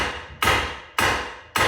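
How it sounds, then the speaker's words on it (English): Three sharp, loud hammer blows strike the control arm and brake rotor of a 2011 Subaru Forester during CV axle replacement, each metallic bang ringing and fading over roughly half a second before the next. "I'm fouling up this control arm pretty good, hitting it with a hammer"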